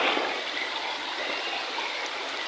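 A river flowing beside a riverside resort, a steady broadband rush of moving water, continuous and fairly soft with no voices.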